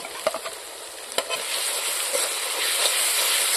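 Ground spice paste of onion, dried red chilli and black pepper frying in a pan for a pigeon and cauliflower curry, a steady loud sizzle with a few stirring scrapes near the start and no talk.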